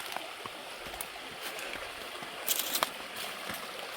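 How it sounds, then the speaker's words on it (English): Mountain river flowing through bush, a steady broadband rush of moving water with occasional brief splashes, close and continuous, with no talking. "I'm about to cross the next river."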